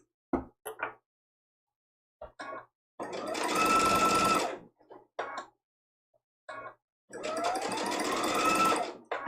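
A sewing machine stitches a square-in-a-square quilt block for a hanging trivet in two loud, steady runs of about two seconds each, separated by short clicks and handling noises.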